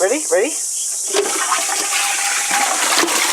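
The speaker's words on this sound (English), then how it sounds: "we now have a flushing toilet" A newly installed flushing toilet, its cistern filled by hose, flushes with a steady rushing wash of water that runs for several seconds; a brief burst of speech opens the sound.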